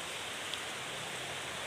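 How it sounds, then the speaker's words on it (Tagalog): Heavy rain pours steadily on a banana farm in the Philippines, a dense, even hiss close to a phone microphone, with no talking. "Ang lakas na ng ulan, guys."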